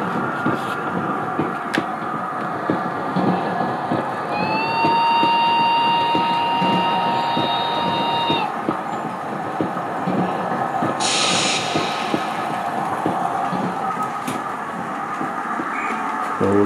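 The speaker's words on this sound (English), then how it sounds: "I'll just let the train come round one more time" A model railway train runs around a layout with a soft, continuous rolling hiss and light clatter. A brief whistle-like tone sounds partway through, and there is a short burst of hiss later.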